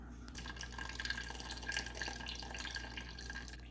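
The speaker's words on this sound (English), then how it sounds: "So the next step is to drain the water out with that big spoon there." Cooking water is scooped and drained from boiled meat with a big spoon while making a traditional Christmas meat pie, giving a continuous wet, dripping, splashing wash of sound with no voices.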